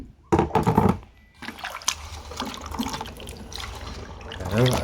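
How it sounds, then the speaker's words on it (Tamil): Lemons are washed under running tap water, with splashing and rinsing at a sink and a steady stream of flowing water that comes and goes as the fruit is handled close by. "நல்லா தண்ணியில் நல்லா வாஷ் பண்ணிக்கலாம்"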